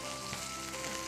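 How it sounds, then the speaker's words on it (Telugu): Boiled carrot pieces drop into chicken already frying in a pan, and a dense, even sizzle fills the short moment with no talking. "ఆ మాత్రం కుక్ అయిన చికెన్లోకి ఈ మాత్రం ఉడికించుకున్న క్యారెట్ వేసేస్తున్నాను"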